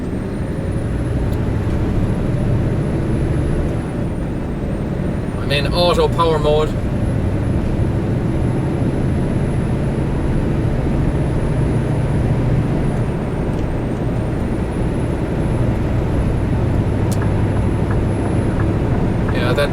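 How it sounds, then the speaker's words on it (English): A 2014 Scania R 520 V8 truck pulling an empty Schmitz trailer, climbing a hill under power: a loud, steady, deep engine drone that holds for the whole stretch, with someone briefly speaking inside the cab. "we're just gonna power it up the hill here, give you a sound of the V8"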